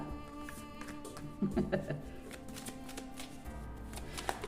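Oracle cards being shuffled close up, a run of quick papery riffles and taps with a brief louder flurry in the middle, no speech over them.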